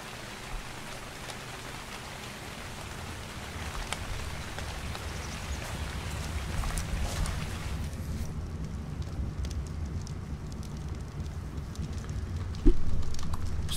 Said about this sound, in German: während es draußen regnet und langsam kalt wird